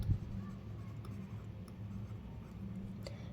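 Hand writing on a page while working a Class 8 maths problem, a faint, steady scratching of the pen with a few light ticks, quiet and close, with no one talking.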